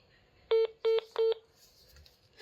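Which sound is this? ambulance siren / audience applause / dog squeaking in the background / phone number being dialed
phone number being dialed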